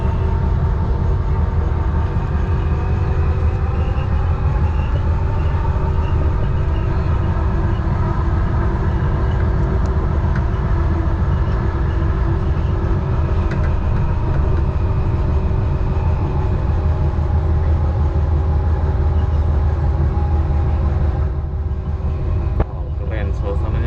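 Steady rumbling of a light rail train in motion near Kuala Lumpur, Malaysia, a continuous low roar with rail hum that stays loud and even throughout.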